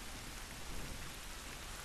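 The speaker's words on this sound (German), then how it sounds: "Tja, es regnet ganz schön." Heavy rain pours steadily in The Last of Us Remastered, a dense, even hiss of drops with no voices or breaks.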